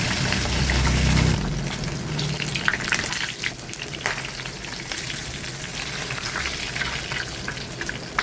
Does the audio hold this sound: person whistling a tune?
no